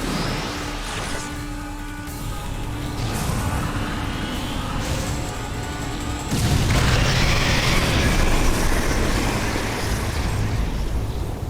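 A Power Bomb detonating in the video game Metroid Other M: a dense, steady roaring rumble that swells louder and deeper about two-thirds of the way through and keeps going, with no voices.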